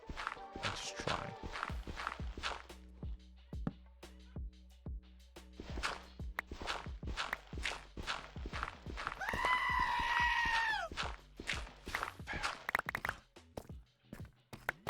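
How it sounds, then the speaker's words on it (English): Minecraft screaming goat letting out a loud, warbling bleat for about two seconds midway, amid a steady rhythm of blocky footsteps and game ambience throughout. "Screaming goat is so loud, though."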